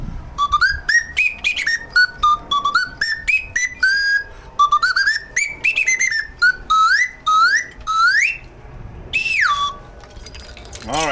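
An American slide whistle plays a song, its gliding pitched notes rising and falling in quick phrases, close and loud, with short breaks between runs and no talk.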